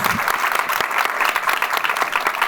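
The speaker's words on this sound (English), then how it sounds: "A big round of applause." A panel audience in New York breaks into a big round of applause, dense steady clapping that fills the room and holds at an even level.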